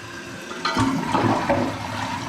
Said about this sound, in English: So if I press it, just as an example, it doesn't flush.